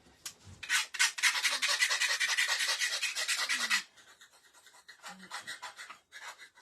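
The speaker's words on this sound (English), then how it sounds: "let me scrape this off really quick." Scraping material off a craft gift box, a steady rasping rub lasting several seconds, then a few shorter, quieter scrapes after a pause; close and fairly loud.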